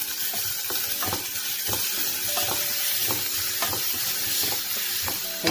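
Onions sizzle steadily in a pan with salt added while a spoon stirs them in regular scraping strokes, the frying close and constant under the rhythmic clatter, with no voices.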